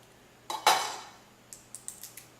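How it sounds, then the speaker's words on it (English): Broccoli florets are cut into smaller pieces for a chicken stir-fry, giving one sharp knife-on-board chop followed by a row of lighter, quick taps close by. "cut that up into more manageable pieces"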